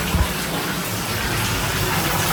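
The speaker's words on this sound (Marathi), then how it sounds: "आपला बाथटब भरत ठेवलाय. भरू दे याला" Water gushes steadily into a filling bathtub at a resort, a constant close rushing hiss with no pauses.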